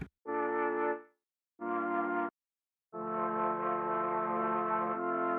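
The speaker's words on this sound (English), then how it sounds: "So the first sound is actually a flute." Synthesized flute from a Logic software instrument plugin plays three sustained notes, two short held tones separated by silences, then a longer note that shifts pitch near the end, clean and alone.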